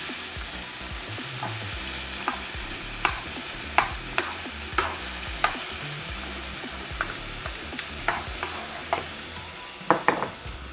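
Onion frying in a pan for a sauce with mackerel: a steady loud sizzle with repeated sharp clicks and scrapes of a spoon stirring against the pan, close and continuous, without talking.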